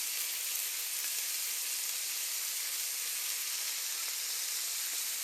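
Onion and steak fry steadily in a hot pan, a continuous close sizzle and hiss with no talking over it.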